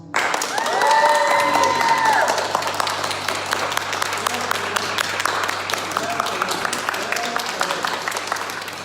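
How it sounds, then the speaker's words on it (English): A church congregation at a Sunday service applauds a graduating class of 2020, with steady, moderately loud clapping that carries on for several seconds, swelling early and holding level, while a singing or speaking voice rises over it at the start. "Let's give God and all of them a big round of applause."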